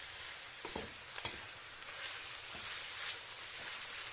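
Onions and peppers sauté in a pan for beef sauté, a faint, steady sizzle broken by a few light stirring clicks and scrapes.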